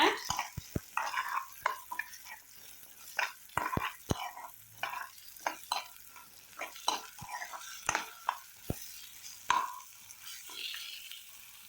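Ginger garlic paste is sautéed in a pan for an egg curry, quiet frying underneath repeated sharp scraping and tapping strokes of a spoon against the pan.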